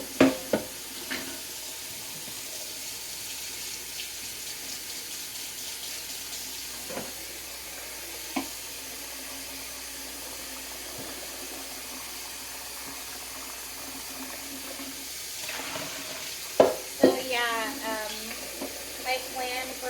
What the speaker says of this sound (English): the longest dish that's gonna take to wash right now is our pan that we made spaghetti in yesterday